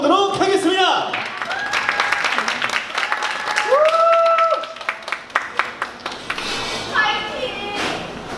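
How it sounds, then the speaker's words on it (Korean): A crowd applauds at a K-pop showcase, with scattered clapping and cheering in a live hall. A host speaks over the start while the claps stay thin and uneven throughout. "여러분들 박수 소리가 적어서 음악이 안 나오는 것 같습니다"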